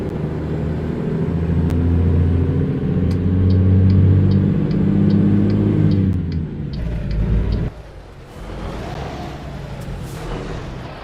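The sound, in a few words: truck driving in video game American Truck Simulator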